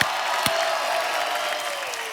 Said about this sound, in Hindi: धर्म पाजी एक बार जोरदार तालियां बनती है यार